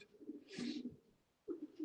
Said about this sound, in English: And the feather quality on all these birds, I keep saying, it's super, Bob.